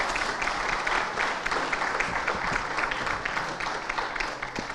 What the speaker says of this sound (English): Guys, a huge round of applause.